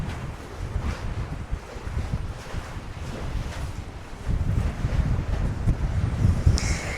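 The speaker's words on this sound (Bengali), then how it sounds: "এই যে পানির যে একটা গর্জন, এটা তো আপনারা শুনতে পারতেছেন মেবি" Sea waves roar against a windy shore, a steady broadband rush blown hard by strong gusts, with the surf swelling louder in the second half and no voices.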